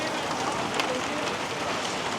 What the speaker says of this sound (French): puis ça s'est remis à pleuvoir à fond.